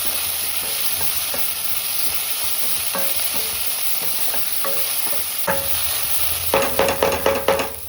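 Smashed ginger and garlic are stirred in a hot pan, giving a continuous sizzle with intermittent scrapes. A quick run of sharper utensil knocks comes near the end, with no voices.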